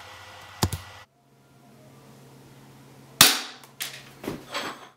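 A VFC M&P9c airsoft pistol fires green gas and 2.5 g BBs, two sharp close reports roughly two and a half seconds apart, each followed by a brief hiss and mechanical clatter, with further lighter clicks after the second shot.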